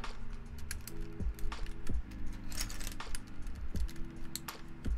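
Mechanical keyboard typing with a fast, steady run of sharp key clacks and occasional heavier strikes such as the backspace. It is close and loud, with no talk over it.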